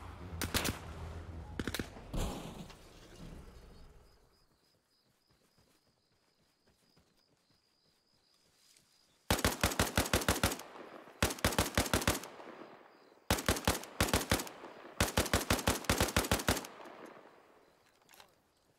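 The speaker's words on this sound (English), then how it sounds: "Shots from the right." Gunfire in the video game Arma Reforger crackles in rapid automatic bursts, several loud volleys separated by short pauses, after a quieter stretch with a few earlier shots.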